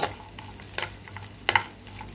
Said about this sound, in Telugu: నెయ్యి అనేది కరిగిపోయిన తర్వాత డ్రై ఫ్రూట్స్ అనేది దోరగా వేయించుకుందామండి